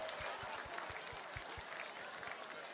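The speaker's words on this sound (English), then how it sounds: "How about a big round of applause for all of our bidders" A gala audience applauds bidders and donors with a steady wash of clapping and cheering, heard from some distance and fairly faint, with a soft thumping beat running underneath and voices mixed in.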